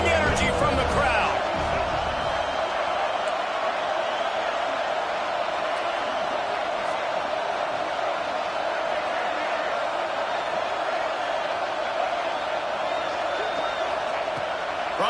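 Sustained roar of a football stadium crowd during a third-and-goal defensive stand, steady and loud across the whole stretch with a brief burst of louder cheering near the start and no speech.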